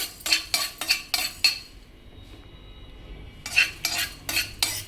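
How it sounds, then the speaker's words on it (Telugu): Coriander seeds roast in a dry pan while a metal spoon stirs them in quick rhythmic scraping strokes, a pause of quiet light sizzle in the middle, then another burst of brisk scraping. "ధనియాలు వేపుతున్నాను"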